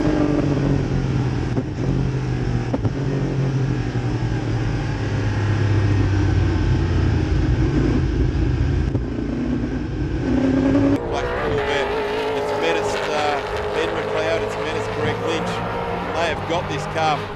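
Race car at a Calder race meeting droning at sustained high engine revs, loud and continuous, with the engine note shifting partway through while a commentator talks over it.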